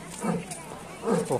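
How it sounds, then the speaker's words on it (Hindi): A leopard at Gorakhpur Zoo gives two short, gruff roaring bursts, one early and one late, at moderate distance, while someone talks close by. "और इसका दहाड़ आप लोग सुन सकते हो।"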